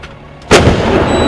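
An artillery gun fires a single loud, close shot partway through, and the blast rolls on as a sustained rumble to the end. Military crews are firing at the time, with no talking heard.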